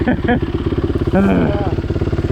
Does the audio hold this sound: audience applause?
no